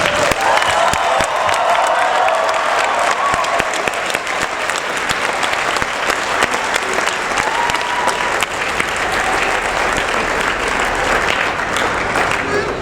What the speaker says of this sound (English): for our New Zealand Olympic team to applaud New Zealand for its wonderful support of the Olympic Games